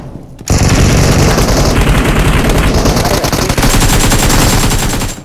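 Sustained automatic gunfire in the mobile battle-royale game BGMI / PUBG Mobile, with loud, dense bursts of rapid shots from several weapons almost without pause after a brief quiet start.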